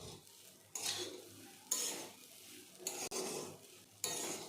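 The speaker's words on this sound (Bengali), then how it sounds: "ভালো করে নেড়ে নেব।" Semolina upma is stirred in a pan with a spoon, giving repeated scraping strokes at a slow, steady rhythm over faint sizzling, close and fairly quiet.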